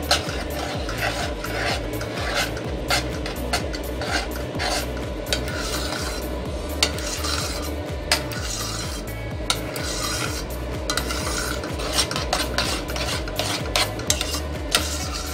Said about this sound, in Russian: Добавляю сыр, перемешиваю его в соусе.